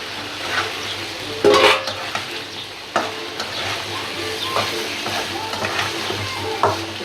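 Chicken pieces and country potatoes frying in a pan for murgi bhuna, stirred steadily with a close, continuous sizzle and a few louder scraping stirs.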